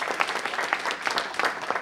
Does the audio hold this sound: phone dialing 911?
no